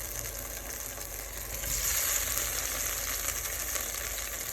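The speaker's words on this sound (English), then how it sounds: "we are going to slowly add in the cooked potatoes, and then we are going to turn them" Cooked potatoes frying in hot oil while being turned, ahead of garlic herb roasting for crispness; a steady, fairly loud sizzle with a soft hiss that swells as they are moved, no voices.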